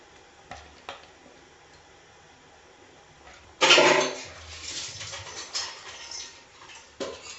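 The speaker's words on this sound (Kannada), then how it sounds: "ಈಗ ಈ ಮೀನು ತುಂಡುಗಳನ್ನ ಇದರೊಳಗಡೆಗೆ ನಿಧಾನಕ್ಕೆ ಹೀಗೆ ಹಾಕಬೇಕು" Pieces of fish go one by one into a pot of simmering fish curry, with a loud splash and sizzle followed by softer clinks and pattering bubbles close by.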